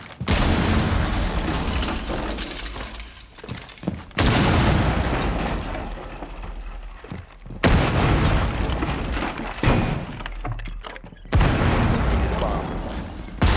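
Ash's breaching charges blasting open the floor in Rainbow Six Siege, a series of heavy, loud booms with sustained rumbling debris between them, each blast cutting in sharply over a continuous roar.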